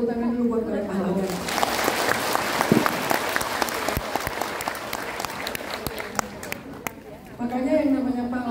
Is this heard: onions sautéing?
no